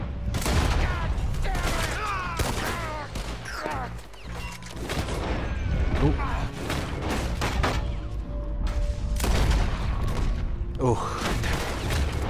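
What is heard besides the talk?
gunfire in the video game Red Dead Redemption 2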